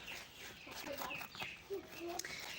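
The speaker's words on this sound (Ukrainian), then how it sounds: "Подивись, чому гусенята кричать." Young geese peep and call in thin, high chirps, several overlapping cries over a low background murmur.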